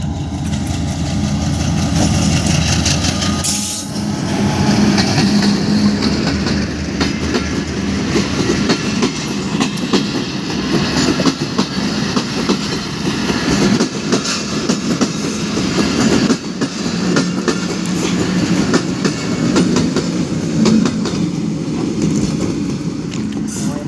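A train rolls past on a railway line nearby, a loud continuous rumble with rhythmic clickety-clack of wagons and engine noise throughout, with some faint background voices.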